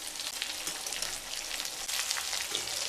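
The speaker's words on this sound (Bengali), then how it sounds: "তেল গরম হয়ে গেলে মাছগুলো দিয়ে দেব।" Fish for a Thakurbari-style fry sizzles in hot mustard oil, a dense crackle of popping and spitting oil heard close up and continuous, without speech.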